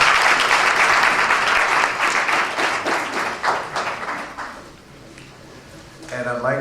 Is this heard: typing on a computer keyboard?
no